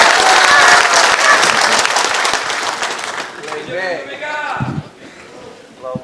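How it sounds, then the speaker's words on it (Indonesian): Applause from a crowd at a national party working meeting, loud and dense at first, then thinning and fading out as a voice begins speaking. "tepuk tangan saja kayak ragu-ragu"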